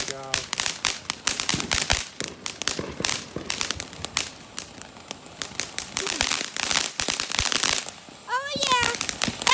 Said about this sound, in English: Oh yeah, that's what I call fireworks.